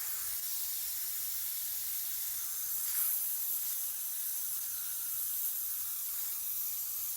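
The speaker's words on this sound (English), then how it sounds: "Now I can spray some alcohol in there" Alcohol sprayed from a bottle into a bowl gives a continuous soft hiss, steady and fairly quiet throughout, with no voices.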